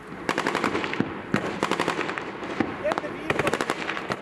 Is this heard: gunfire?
yes